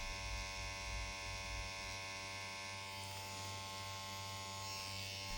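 A tattoo machine fitted with a 7-round liner needle and running at 8 volts buzzes steadily and close up while pulling a fine line, giving a continuous electric hum with a rich, even drone.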